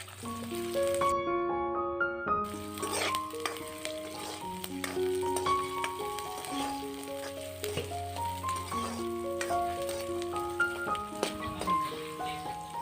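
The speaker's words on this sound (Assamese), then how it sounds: "এতিয়া পিঁয়াজখিনিও দি ভালদৰে ভাজি ল'ম।" Onions fry in mustard oil with five-spice, crackling and sizzling steadily close by while a melodic instrumental music track plays loudly over the cooking.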